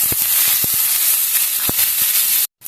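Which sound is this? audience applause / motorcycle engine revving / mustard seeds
mustard seeds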